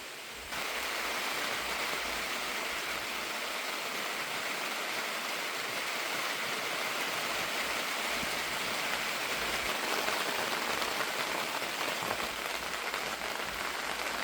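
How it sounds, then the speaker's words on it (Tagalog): Steady rain patters down on a surface, a dense, even hiss that continues without pause. "Naririnig nyo ang ulan, mga kabistak, yung patak ng ulan."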